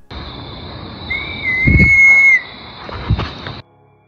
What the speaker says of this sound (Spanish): Estos silbidos parecen ser una señal emitida por estos enmascarados.